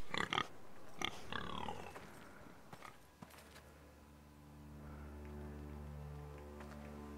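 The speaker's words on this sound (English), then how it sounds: "There's a pig." A pig in the Game of Thrones video game gives a few grunting oinks amid game sound effects and thuds, followed by a steady droning ambient music bed.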